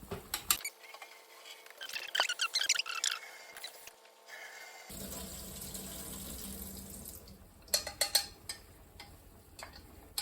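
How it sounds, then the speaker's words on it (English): Tap water runs into a kitchen sink to cool cooked greens, with pouring and splashing that comes and goes in bursts alongside clattering handling noises. "I'm going to pour it out, and I'm going to put like tap water."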